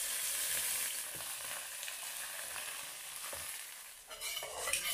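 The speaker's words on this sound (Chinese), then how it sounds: "下带鱼浸一下" Hairtail fish pieces frying in a hot oiled wok: a steady, close, moderately loud hiss and crackle runs throughout, with light stirring scrapes and a brief flare of sizzle near the end.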